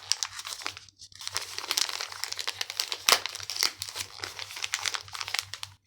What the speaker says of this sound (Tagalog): I'm so excited to open this gift